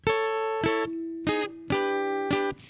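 Five strummed electric guitar chords, each ringing briefly before the next, the same shape shifting by small steps in pitch; clean and close, no voices.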